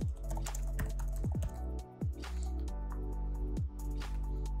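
Keys on a computer keyboard clack in quick, uneven bursts as someone types a subject line into a Riot account support form. The taps are close and clear, with no talking.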